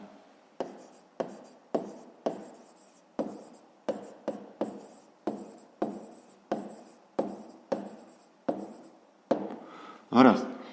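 Pen writing a math solution by hand for a fifth-grade geometry exercise, a series of short scratching strokes in an even rhythm, close and clear, with a louder rustle at the end.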